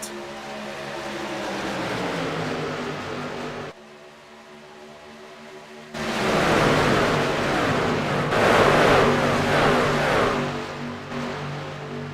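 Race trucks at a superspeedway race in Atlanta roaring past at about 180 mph: a loud sustained engine drone with a short drop-off, then swelling again as more trucks rush by.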